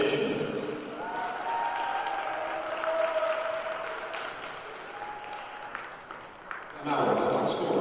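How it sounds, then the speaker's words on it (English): Crowd applause fills a gymnastics meet in a hall as Penn visits Cornell, a steady wash of clapping under a voice on the public address, swelling louder near the end. "let's have another round of applause for today's gymnasts"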